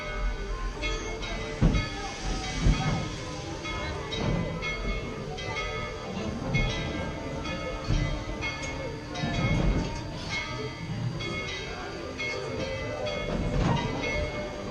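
An amusement park steam train ride at Tweetsie Railroad rumbles along, with steady wheel clatter, hissing and a low mechanical roar, with faint voices mixed in throughout.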